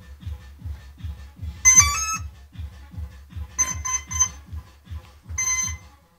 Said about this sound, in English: So the first beep is the welcome note, and then it beeps three times, meaning that I'm using a 3-cell lithium polymer battery